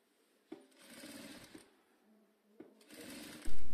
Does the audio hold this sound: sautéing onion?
no